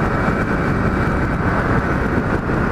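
A Kawasaki Z1000 motorcycle engine fitted with an exhaust baffle, a steady loud broadband rumble running throughout with no pauses and no talk.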